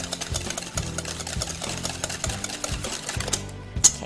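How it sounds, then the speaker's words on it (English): Electric hand mixer whipping lemon bar batter with sweetener until frothy, a steady close motor whir with rhythmic pulsing beats throughout, no talking. "mix that together really well. Want to get it till it's like kind of frothy."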